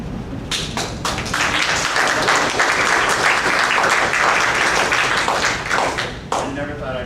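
An audience applauds loudly and steadily at a TPP protest gathering, a dense, sustained burst of clapping close by that dips briefly near the end and then resumes.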